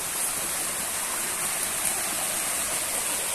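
Water flowing steadily in a countryside stream near a swimming spot, a continuous close rushing hiss with no pauses or voices.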